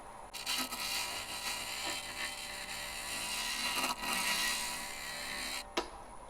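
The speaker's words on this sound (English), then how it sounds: "I'm going to see if I can get a little shear scrape here" A woodturning lathe spins a log while a tool makes a shear scrape across the wood, producing a steady, close rasping hiss that runs unbroken through the clip, with brief sharper scrapes near the end.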